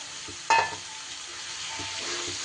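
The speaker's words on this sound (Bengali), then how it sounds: "এবার সব কিছু খুব ভালো করে একটু কষিয়ে নিব" Soybean, fried potato and boiled chickpea dal stir-fried with spices, a low steady sizzle broken by a single sharp clack of a spatula against the pan, then soft scraping.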